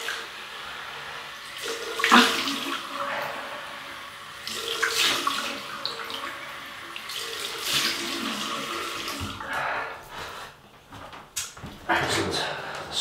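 Tap water runs and splashes in a sink while a face is rinsed after shaving with a Merkur Futur chrome razor, coming in several close, uneven bursts with occasional voice in between.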